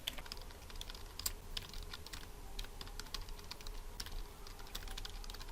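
Rapid, irregular typing on a computer keyboard in MS Word, with crisp key clicks close by and the occasional heavier tap, and no voices.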